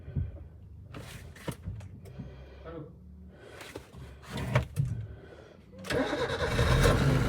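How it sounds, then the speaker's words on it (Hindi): A Maruti car engine cranks with the starter in a single attempt and catches, settling into a steady idle, recorded close up amid flood conditions in Assam. "सिंगल सेल्फ में चालू हो गई गाड़ी भाई।"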